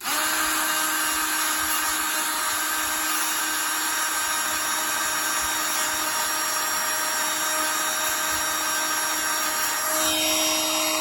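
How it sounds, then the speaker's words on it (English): Dremel rotary tool buffing rust off a Proflex Girvin Vector bicycle fork part, a steady high-pitched whine held close and loud throughout, dipping briefly near the end before resuming. "There's a little Dremel hack for you"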